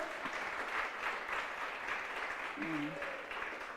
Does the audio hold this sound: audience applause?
yes